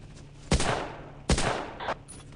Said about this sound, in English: And I actually got sniped there.